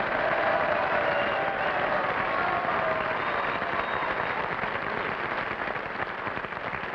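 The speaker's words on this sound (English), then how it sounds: "How about a real cheer?" A 1954 live television studio audience cheers and applauds for a gold record presentation to Dean Martin, a dense, steady roar of clapping and crowd noise that fills the whole stretch without a break.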